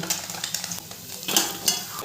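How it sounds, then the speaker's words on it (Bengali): Fish sizzles in hot oil in a pan while a utensil scrapes and stirs, giving a busy, close crackle with small metallic clinks. "মাছটা আমার 2 পিঠ ভালো করে ভাজা হয়ে গেছে, এবার আমি তুলে নেব"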